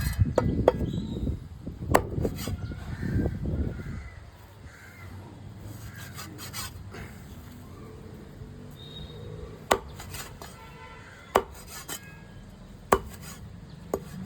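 Knife chopping through Vanjaram (seer fish) dry fish, several heavy thuds in the first four seconds, then a few sharp isolated cuts later over quiet background; crows caw faintly nearby.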